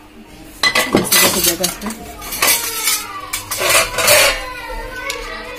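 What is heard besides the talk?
washed dishes and utensils clinking as they are hung up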